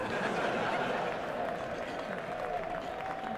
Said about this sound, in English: Crowd cheer.